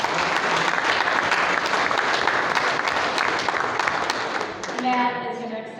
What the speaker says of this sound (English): Give a round of applause to Mike Miller.